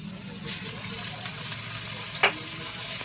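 Ginger paste frying in a pan makes a dense, even hiss close by, with a brief louder scrape near the end.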